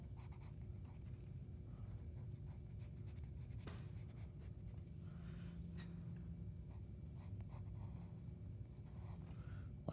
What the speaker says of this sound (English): you can go in with your pencils, whichever pencils you need, and you can add some details